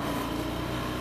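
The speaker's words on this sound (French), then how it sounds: "Déneigé avec une tondeuse à gazon. Avec un petit tracteur Kubota là" A small Kubota tractor clears snow, its engine producing a steady, even, rumbling drone at moderate distance for a brief moment, with no voices.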